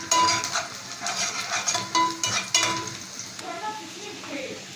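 Onion frying until golden for a stuffed-vegetable dish, a close, steady sizzle broken by repeated scraping stirs and pan clinks, with no speech.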